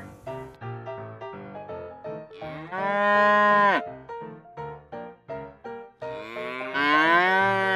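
A cow lets out two long, loud moos, separated by a cheerful, plinking melody that plays between and beneath them.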